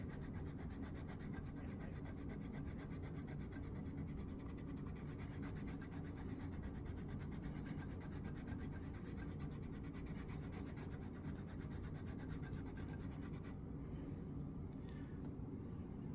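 Steady, continuous rubbing and rasping as 1200 grit abrasive is worked across the frets of a 1986 Hamer guitar, an even scratchy friction that holds level for the whole stretch with no voices.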